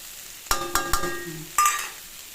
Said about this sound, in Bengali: একটু চিনি আর শুকনো লঙ্কা আর কাঁচা লঙ্কা ফাটিয়ে দিয়েছি